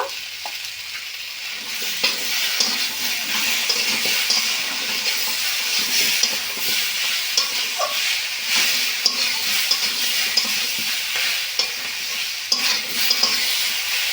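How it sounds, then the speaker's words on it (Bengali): Spices and ginger paste stirred and fried with vegetables for Bengali shukto give a loud, continuous sizzle with scraping spoon strokes against the pan throughout. "এবার সব মশলাগুলো সবজির সঙ্গে ভালো করে কষে নেব"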